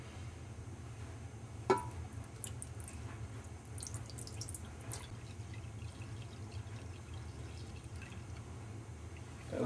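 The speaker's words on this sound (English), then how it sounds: "So I'm going to try to pour this out, leaving as much of the cake behind as I can." Homebrewed yogurt hefeweizen beer is poured off its yeast cake, a soft, quiet trickle and splash of liquid with a single sharp clink early on, faint and close.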